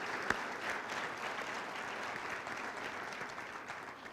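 Applause from the audience at a chamber of commerce annual meeting, a quiet, steady wash of many hands clapping heard from a distance, running evenly throughout with no speech over it.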